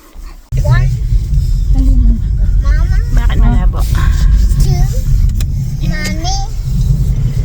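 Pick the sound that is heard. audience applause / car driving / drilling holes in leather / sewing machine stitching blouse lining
car driving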